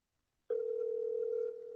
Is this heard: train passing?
no